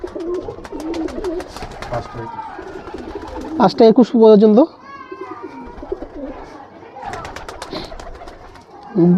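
Racing pigeons coo loudly at close range during a pigeon-flying tournament, with throaty bursts rising around the middle and again at the end, while someone talks over them.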